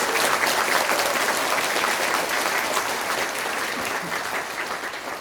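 An audience at a civic gathering in Sejong, South Korea, applauds loudly and steadily, a dense wash of clapping that holds throughout and fades slightly at the end.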